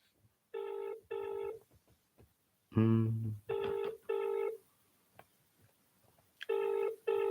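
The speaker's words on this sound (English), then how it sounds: "Please pick up the phone." Ringback tone of an outgoing phone call, placed live during a boxing show: repeated pairs of electronic buzzing rings separated by pauses, with a brief louder low burst between them and no talk.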